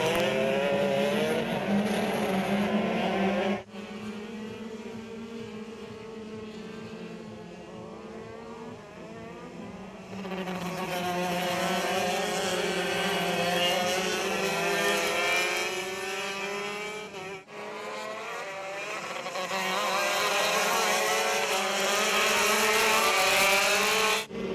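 X30 racing karts racing on a track during an X30 Southeast Asia round, high engines buzzing and whining continuously as karts pass, rising and falling in pitch, loud and close throughout with no talk.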